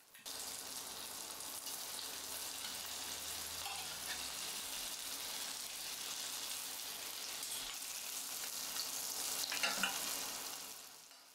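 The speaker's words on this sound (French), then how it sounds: "je vous laisse admirer cette cuisson régulière de la noix de Saint-Jacques" Scallops sear in brown butter in a hot pan, giving a continuous, even sizzle that holds steady and swells slightly near the end, with no voices.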